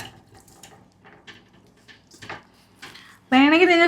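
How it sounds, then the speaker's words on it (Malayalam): People talk for several seconds, then water gushes briefly and loudly into a pot of washed tapioca, its pitch rising as the vessel fills. "അതിന്റെ അകത്തോട്ട് കപ്പ ഇട്ടിട്ട് വെള്ളം ഒഴിക്കുക അല്ലേ?"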